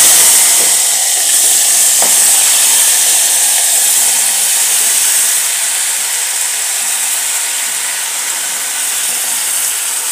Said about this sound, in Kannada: ಈ ಎಣ್ಣೆಗೆ ನಾನು ಟೊಮ್ಯಾಟೊನ ಬಿಡ್ತಾ ಇದ್ದೀನಿ.